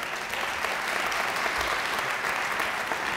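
Sustained, even applause fills a hall as an audience cheers the two winners of a national piano competition final, a dense wash of clapping from many hands without a break.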